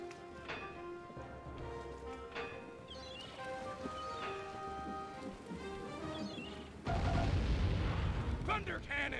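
Thunder cannons fire in the video game Sly 3: Honor Among Thieves, a sustained rumbling barrage with booms that swells louder near the end, layered over game music with tonal lines and chirps.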